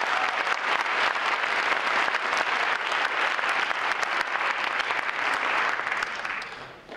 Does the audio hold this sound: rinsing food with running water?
no